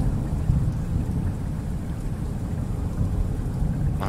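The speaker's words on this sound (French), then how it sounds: "Quelques gouttes de pluie commencent à tomber sur Brindlewood ce soir." A steady wash of rain with a deep rumbling thunder ambience underneath, dense and constant, with no voices.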